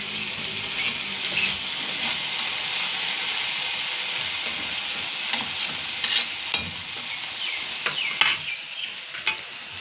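Food frying in a pan with steady stirring, a continuous sizzle with scraping spatula strokes growing sharper near the end, heard up close with no talk.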